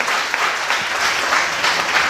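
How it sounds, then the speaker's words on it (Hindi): A church congregation breaks into enthusiastic applause, a loud, even wash of many hands clapping continuously without pause or speech. "यहां तालियां चाहिए, थोड़ा जोश से।"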